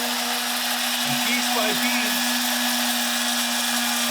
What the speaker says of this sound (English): we're going to take our immersion circulator, or immersion blender, we're going to put it in there.